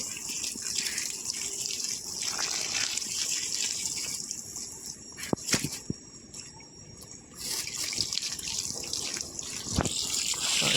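Water sprinkled outdoors from a running motor-fed supply, a steady broad rush of spraying water that continues throughout, with a few brief knocks and a short dip midway.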